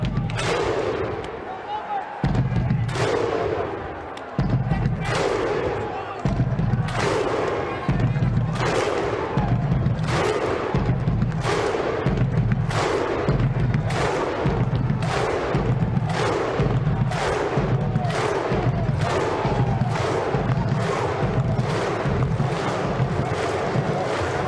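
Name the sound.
crowd Viking clap in Rugby League Live 4 video game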